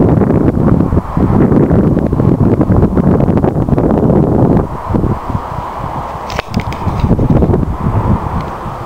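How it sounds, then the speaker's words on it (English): Leaves rustle in a strong wind outdoors on open wasteland, a loud continuous broadband rush with gusty surges and a brief sharper crackle, no voices. "I love the sound of the rustling leaves"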